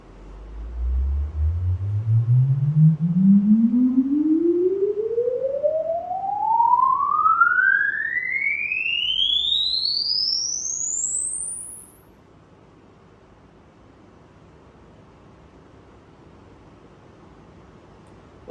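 A pure speaker measurement test tone sweeps smoothly upward from a deep low hum to a very high pitch over about twelve seconds, then faint room noise remains.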